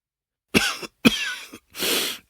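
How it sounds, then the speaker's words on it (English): Three harsh, hacking coughs in quick succession, close and loud, each a short rough burst with brief gaps between. "He began hacking and coughing again"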